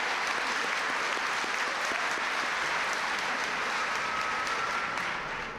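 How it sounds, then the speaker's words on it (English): A reception crowd in Portland, Oregon gives sustained, dense applause for a presidential guest, a loud continuous roar of many hands that barely eases before the end. "Let's give them a round of applause here."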